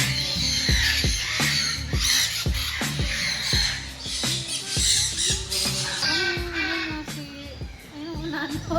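Loud, harsh parrot squawks ring out in an aviary on a parrot farm, coming in a rapid series of repeated close calls that overlap one another, with faint voices in the background.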